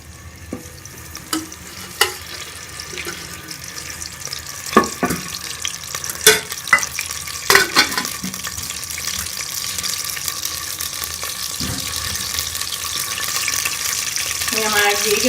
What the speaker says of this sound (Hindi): मैं घी डालूंगी 2 चम्मच घी डाल के इसको हम गर्म कर लेंगे